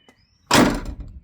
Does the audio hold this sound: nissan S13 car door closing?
yes